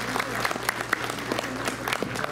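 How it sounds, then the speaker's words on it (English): An audience at a mosque fundraising event claps for the IT specialist, brisk applause at moderate level with a low hum beneath and some crowd voices mixed in. "a big round of applause for Abdul"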